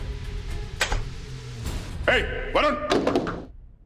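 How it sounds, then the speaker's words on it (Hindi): A door is banged or slammed in a tense crime-drama scene, giving a few dull thuds, while voices talk over and between the knocks. "वरुण दरवाजा खोलो"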